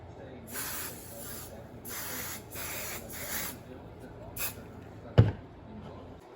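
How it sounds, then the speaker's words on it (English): An aerosol can of adhesive spray sprays onto chenille fabric in several short hissing bursts of about a second each, followed by a sharp knock. "I get a little adhesive spray a little bit of this adhesive"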